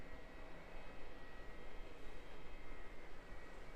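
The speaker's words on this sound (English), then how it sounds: "Here we go. Air Tahiti Dreamliner 787-9er." Air Tahiti Boeing 787-9 Dreamliner at Auckland Airport, a steady, broad jet roar heard from a distance, holding even and continuous with no voices over it.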